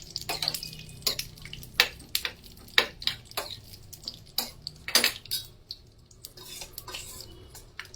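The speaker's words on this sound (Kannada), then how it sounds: "ಇವಾಗ ನಾನು ಗೋಡಂಬಿ ಹಾಗೂ ದ್ರಾಕ್ಷಿ ಹಾಕ್ತಿದ್ದೀನಿ." Cashews and raisins dropped into a pan, a scattered series of sharp clinks and taps with light rattles, close and moderately quiet, with no talk.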